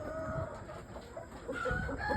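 Speckled Sussex hens clucking softly in a farm run, faint, scattered short calls over a low, steady background.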